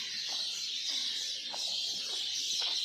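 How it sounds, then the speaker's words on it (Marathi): Small birds chirp in the morning in short, sparse calls over a steady high background hiss. "चिवचिव चिवचिव ऐकायला येत असेल"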